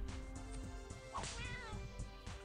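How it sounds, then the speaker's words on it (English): Cartoonish cat meows from the Atomic Kittens slot game, a short yowling meow over the game's steady musical tones and chimes, fairly clear and close. "It's like a little cat sound, like a cat getting like smacked or something, like meow."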